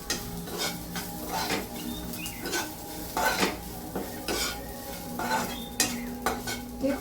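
Chopped onion and finely cut ginger roast in a pan while a spoon repeatedly stirs and scrapes, with clinks of metal on the pan and a soft sizzle underneath, close and steady throughout.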